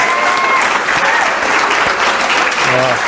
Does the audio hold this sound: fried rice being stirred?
no